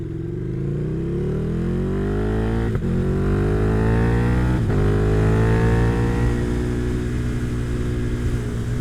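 Motorcycle engine revving and accelerating through several gear changes, heard from inside a quiet helmet with steady wind rush underneath; rising harmonic sweeps break at two brief shifts, loud and close throughout.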